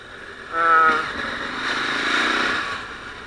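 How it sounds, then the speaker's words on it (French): A KTM 1290 Adventure S motorcycle pulls away, its engine note rising in a brief surge and then holding a steady, moderate drone under wind and road noise. "on va voir ce que ça donne notre petit essai vide avec l'Adventure S 1290 de chez KTM"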